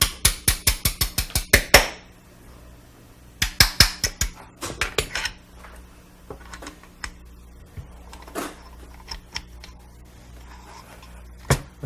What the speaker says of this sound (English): And we'll punch out the other pin for the trigger.